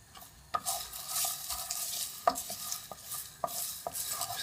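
Whole spices for Madras curry powder are being dry-roasted in a pan and stirred, giving several sharp scraping and rattling strokes spaced irregularly over a faint dry sizzle, close up with no talking.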